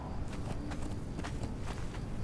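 Horse hooves walk on the ground in the Conan Exiles video game, soft irregular clopping steps repeating under a dense, noisy background bed.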